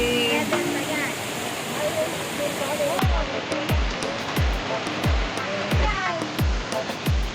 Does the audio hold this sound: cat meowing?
no